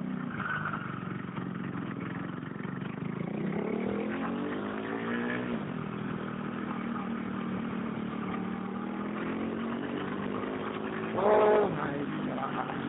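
Motorcycle engine running steadily while riding on a Chandigarh road, with a continuous mid-level drone that shifts pitch as the bike changes speed, a brief louder burst near the end, and talk over the top.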